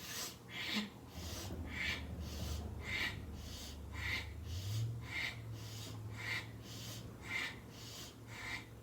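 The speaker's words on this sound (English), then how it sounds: "It's like you're sniffing it in and snorting it out." Rapid rhythmic yoga breathing, sharp nasal sniffs in and forceful snorts out, repeating roughly once per second, close and steady with no talking.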